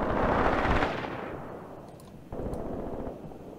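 Enemy gunfire in the war game Graviteam Tactics, a loud burst of rattling shots that fades into a rumbling tail, followed by another dull distant volley.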